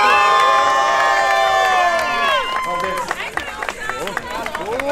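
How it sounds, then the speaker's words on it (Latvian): Loud applause and cheering break out from a crowd at a mud fight event in Kandava, clapping and shouts dense at first, then thinning into scattered claps and calls while a voice carries on. "vēlreiz uzteicam skaļas ovācijas"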